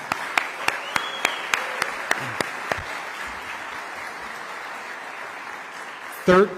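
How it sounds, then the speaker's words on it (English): Audience at a Parks, Recreation and Cultural Resources awards ceremony applauds volunteers, a soft wash of clapping with a few sharp isolated claps standing out early, ending in a brief loud bump. "If you would, join me in a round of applause."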